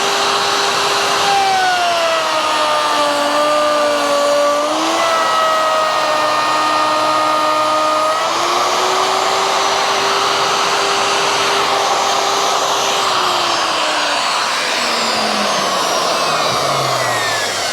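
A handheld router cuts a half-inch rabbet along the full length of a board for a Shaker-style bathroom vanity, its steady loud whine shifting pitch as the bit bites and then winding down at the end.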